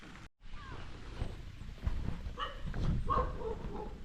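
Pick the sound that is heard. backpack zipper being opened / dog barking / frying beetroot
dog barking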